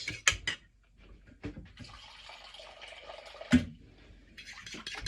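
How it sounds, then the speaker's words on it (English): Water poured into a tahini and lime dressing in a bowl, a soft running trickle with a few drips and splashes, close and fairly quiet, no talking. "the final step is to add a little water"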